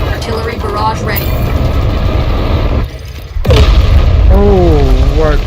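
Deep booming explosions from an artillery barrage in a large multiplayer Minecraft civilization game, heavy rumbling blasts that drop out briefly then return loud, with chirpy whistling sounds over the top.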